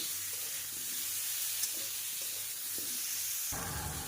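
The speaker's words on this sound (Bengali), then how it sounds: "এবার ভালোভাবে বেশ কিছু সময় আমি হাই ফ্লেমে আমটাকে কষিয়ে নেব" Mango pieces with a little turmeric and salt frying hard on high flame, giving a faint continuous hiss with a few light clinks, and a brief louder clatter near the end.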